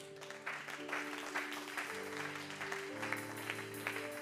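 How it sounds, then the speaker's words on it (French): A church congregation claps at a worship service, a moderately distant, continuous patter of applause over sustained keyboard chords. "Oh, acclame Jésus."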